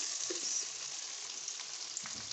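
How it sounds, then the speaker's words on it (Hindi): Onions fry in oil with a quiet, even sizzle and occasional faint stirring sounds throughout, no voices. "इसी ऑयल में हम जो है ना ये डालेंगे प्याज"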